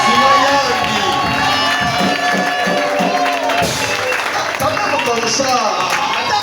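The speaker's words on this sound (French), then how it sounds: "on acclame le Seigneur très fort" Church congregation at an Assemblée de Dieu gathering in Kinzaou-Mvoueti loudly acclaiming, with sustained cheering, shouting and clapping filling the room while a voice speaks over the roar.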